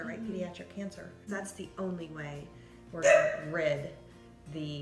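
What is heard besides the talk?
dog barking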